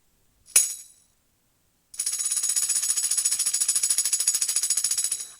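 A single bright jingle, then after a pause a tambourine shaken in a fast steady rhythm of metallic jingles lasting several seconds.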